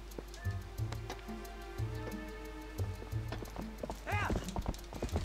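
Epona's hooves clop in a rhythmic gallop in The Legend of Zelda: Twilight Princess, steady game hoofbeats joined near the end by a rising whinny, with faint talking beneath.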